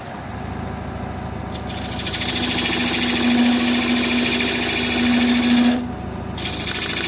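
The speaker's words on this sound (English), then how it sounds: "I'm going to take a 3/8 inch standard grind bowl gouge and work on that a little more" A bowl gouge, 3/8 inch with a standard grind, cuts a wooden vase on a spinning wood lathe, a loud, continuous scraping hiss over the motor's hum that swells in the middle and then eases off as the cut ends.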